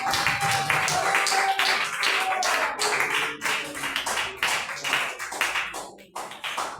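A church congregation claps during a worship service, a strong run of sharp, rhythmic claps close by, steady at first and then thinning out, with voices mixed in.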